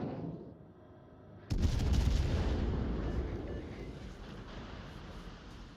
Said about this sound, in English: the one shell I shoot does actually connect and sets fire